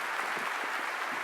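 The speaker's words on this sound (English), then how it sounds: "please give a warm round of applause for our first speaker" An audience at a cloud computing talk gives a warm round of applause as the first speaker, Chris Kemp, takes the stage, a brief steady wash of clapping.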